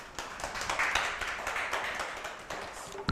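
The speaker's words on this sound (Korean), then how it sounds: "박수로 맞이해 주시기 바랍니다." An audience at an academy admissions briefing applauds to welcome a math team leader as speaker, a sustained patter of many hands, moderately quiet and steady, with no talk over it.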